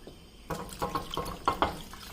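Water splashes and trickles into a pot of catfish light soup in short uneven bursts, close by, with no talking.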